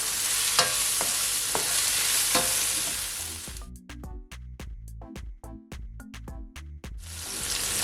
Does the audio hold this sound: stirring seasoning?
yes